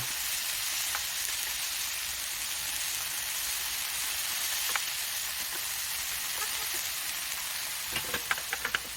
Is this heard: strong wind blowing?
no